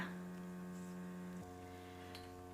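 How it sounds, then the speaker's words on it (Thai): A heater runs indoors in a snowy Swedish country house, giving a loud, steady hum with layered tonal overtones that shifts slightly in pitch partway through, with no voices. "เสียงเครื่องทำความร้อนก็จะดังแรงนิดนึงนะคะ"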